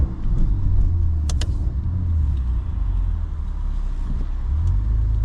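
A BMW M340i xDrive with a custom XHP tune cruises with a loud, steady low engine drone heard from inside the cabin, with a couple of brief clicks early on.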